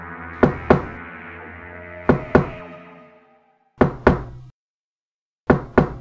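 Knocks on a door in a 3D animated Malayalam kids' comedy come in pairs of two hard, loud raps, repeated four times with short gaps and ringing tails between them.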